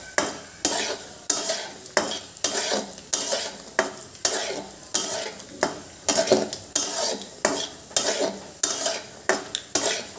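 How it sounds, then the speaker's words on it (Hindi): Raisins and other ingredients frying on low heat for Basanti pulao, with a regular rhythm of spoon scrapes and stirring strokes against the pan over a continuous sizzle, close and fairly loud. "धीमे आँच पर ही इन सबको फ्राई करेंगे।"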